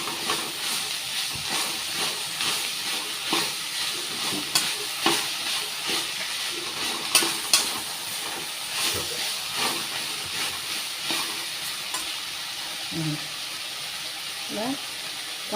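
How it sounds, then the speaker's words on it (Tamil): Chayote chutney ingredients, chayote with ginger, garlic and a tomato, sautéing in a pan: a continuous close hiss and sizzle broken by scraping stirs, while someone talks over it. "வதங்கட்டும்."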